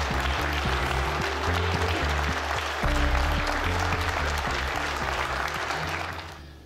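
An audience at an Aikido club's 30th-anniversary medal ceremony in Yutz claps in a loud, sustained ovation while music plays beneath, the clapping fading slightly near the end.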